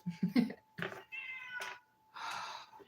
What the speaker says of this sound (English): How do you mute the meow?